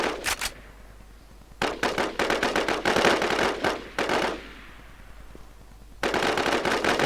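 Automatic gunfire from the video game Infestation, loud rapid bursts of shots broken by short pauses, with a long volley in the middle and another burst at the end.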